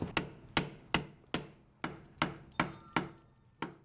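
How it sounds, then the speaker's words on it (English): A flat screwdriver is hammered into the seam of a transmission pan on a 2012–2019 Subaru Legacy/Outback TR690, giving about nine sharp metallic taps in an even rhythm, close and clear with no talk. "I'm just gonna use a flat screwdriver. Just put it in the seam, give it a little tap."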